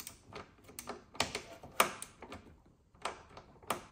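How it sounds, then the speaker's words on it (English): A wrench works loose a nut tucked behind the taillight trim on a 2024 Tesla Model Y/3, making a quick series of close, light metallic clicks and ticks in an irregular rhythm. "one hand hold the trim open, the other hand go in and unbolt it."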